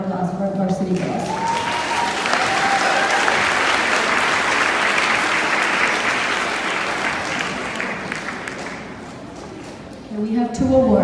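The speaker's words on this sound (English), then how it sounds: "So another round of applause for our varsity girls." Sustained applause from an audience at a school sports awards night honouring the varsity girls' running team, loud and steady for about ten seconds, with a voice starting to speak as the clapping fades at the end.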